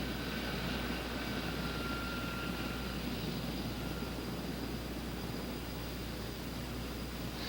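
A Sikorsky CH-54 heavy-lift helicopter taxis into position over a heavy load, a cement-filled tank, giving off a dense, constant rotor and engine roar with a low throbbing hum, unbroken and loud.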